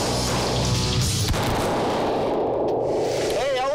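Gunfire from a betting challenge on a shooting range: a dense, loud burst of shots and booming reports across the first part, fading into rumbling echoes as a voice rises near the end.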